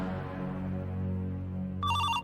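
A phone ringtone cuts in near the end with a bright, repeating electronic chime, loud and close, over a steady low background hum.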